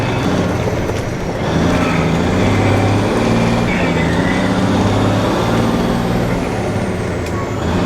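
An old white truck driving, with a loud, steady engine drone and rumble from inside the cab that builds after the first second and holds throughout, with a faint hiss above it.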